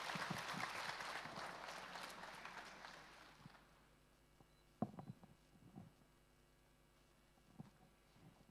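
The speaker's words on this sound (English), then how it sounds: "So let's give a round of applause to her." An audience at the Awakening Youth Fest at Pyramid Valley claps after a meditation session, a few seconds of dense applause that fades out, followed by a few faint knocks and thumps in a quiet room.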